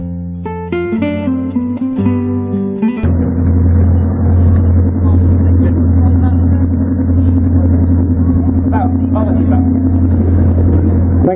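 A very rare classic car at an American and classic car show idles with a deep, steady rumble after a brief burst of music, the engine running close and loud throughout.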